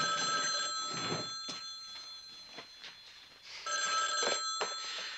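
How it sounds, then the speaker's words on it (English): A telephone bell rings unanswered in two loud, rattling bursts separated by a pause, with faint background noise between the rings. "Now, Pep's not answering her phone."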